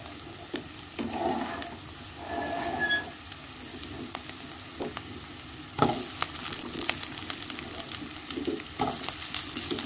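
Ridge gourd and potato fry in a pan with green chili, giving a continuous bubbling sizzle at moderate level, with scattered crackles and a few sharp ticks and clacks.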